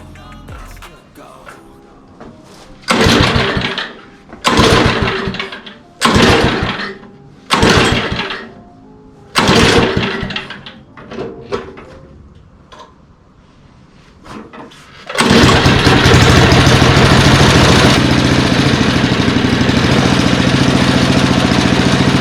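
A small gas-powered blower engine with a choke and primer bulb sputters through several short, loud cranking bursts, then catches and runs at a steady, loud roar.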